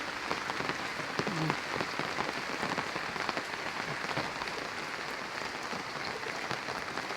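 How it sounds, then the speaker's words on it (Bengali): Steady rain falling in a village, a dense, even hiss of drops pattering on surfaces close by, continuous for the whole stretch with no voices. "বৃষ্টি নামছে"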